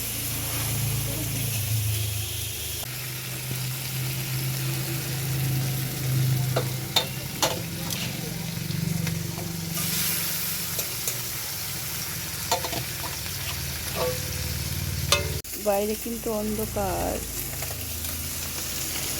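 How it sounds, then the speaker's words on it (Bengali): Fish frying in a pan on a gas stove at night, a continuous close sizzle broken by sharp spatters and stirring clatter, with someone talking briefly over it. "ফোনের লাইটের সাহায্যে আমি মাছ কটা ভেজে নিচ্ছি।"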